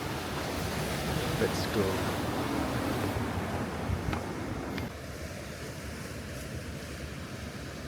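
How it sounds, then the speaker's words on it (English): Waves wash steadily onto a beach in Nice under light wind noise, a continuous surf rush with a person speaking briefly nearby. "And here you will find another beach."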